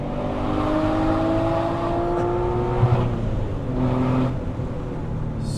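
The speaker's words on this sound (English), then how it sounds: "Listen to this downshift, ready?" A Porsche 996 fitted with a GT3 exhaust winds down through a downshift, its engine note falling in steady, loud drones, with a brief blip of revs partway through and no talking over it.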